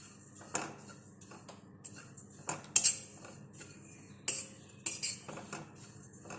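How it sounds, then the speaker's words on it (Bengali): Dry oats being roasted in an empty wok, with a utensil scraping and clinking against the metal in scattered taps and sharper knocks, close and fairly quiet, with no voices. "খালি কড়াইতে ভেজে নেব।"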